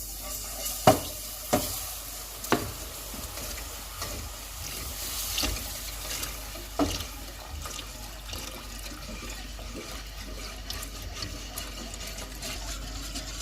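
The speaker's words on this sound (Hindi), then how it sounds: "दूध को थोड़ा थोड़ा करके डालते हैं।" Milk is poured a little at a time into roasted flour for a white sauce, giving a soft liquid hiss and sizzle with several sharp spoon clinks against the pan near the start, then steady stirring.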